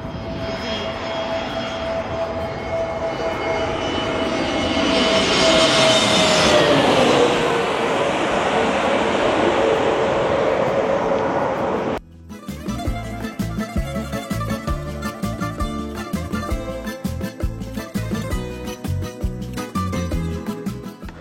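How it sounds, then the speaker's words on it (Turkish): A fixed-wing airplane roars low overhead near the runway at Kanoni, Corfu, its engine noise swelling to a loud peak and sweeping downward in pitch as it passes, then the sound abruptly gives way to loud music. "Buranın ikonik olmasının nedeni ise tepenizden yakın bir şekilde uçağın geçmesi."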